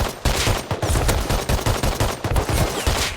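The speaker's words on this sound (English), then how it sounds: "The recoil's kind of crazy on this gun." Rapid gunfire from a gun in Rust, a loud, dense automatic stream of shots close by with short pauses between bursts, no talk over it.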